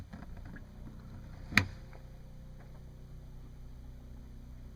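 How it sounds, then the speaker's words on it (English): An RV fresh-water pump running to pressurize the plumbing, heard as a steady low hum with faint motor harmonics and one brief sharp click partway through, no talking. "I can hear it running."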